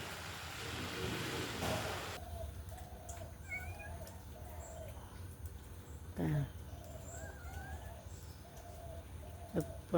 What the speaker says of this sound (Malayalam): എപ്പോഴും പക്ഷികളുണ്ട്.